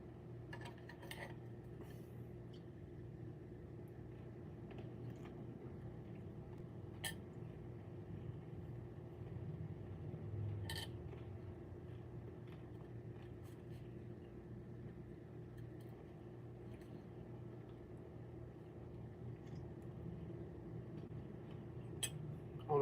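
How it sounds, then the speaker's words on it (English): A faint, low engine rumble hums in the background of a quiet space, with occasional light clinks of dishes and cutlery. "I don't know if you can hear that engine sound right now."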